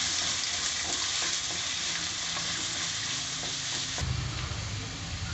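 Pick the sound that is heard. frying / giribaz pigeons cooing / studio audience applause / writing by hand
frying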